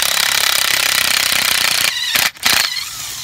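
A loud, steady rattling of a power tool hammers continuously while loosening a sway bar bushing nut on a 1999-2004 Ford Mustang, then cuts out briefly with a couple of short bursts near the end.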